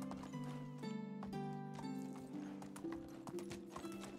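Horse hooves in the medieval video game Medieval Dynasty, ridden in co-op play: steady clip-clop footfalls close by over layered game music, with a brief snort or whinny.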